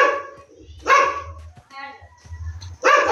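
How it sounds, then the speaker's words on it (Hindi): Several sharp dog barks in the Jurassic Survival Island video game, spaced irregularly and fairly loud, with a low hum and a speaking voice in between. "यार बार एक कुत्ता भुगना स्टार्ट करता है"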